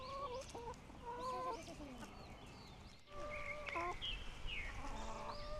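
Several chickens cluck and call near a vegetable garden, with repeated close clucks and short squawks and a brief bump midway, under quiet background.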